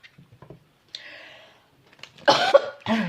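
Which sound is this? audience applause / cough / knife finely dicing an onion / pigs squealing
cough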